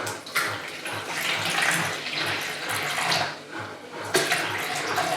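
Tap water pours steadily into a jug in a home kitchen, measuring 300 ml for panzerotti dough; a continuous close splashing hiss with a brief surge near the end, no talk.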